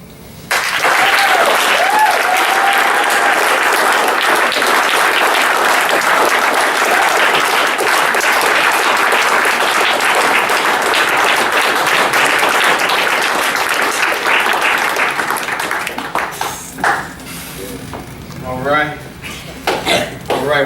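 Sustained, dense audience applause for readers at an exhibit reading event, loud and steady for about fifteen seconds before thinning into scattered claps and voices chatting near the end.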